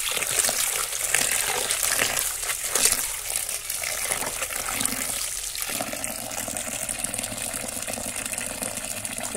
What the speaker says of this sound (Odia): ଏବେ ମୁଁ ଶାଗ ତୋଳିକି ସବୁ ଆଣିଛି, ଏବେ ତାକୁ ଧୋଇଦେବା।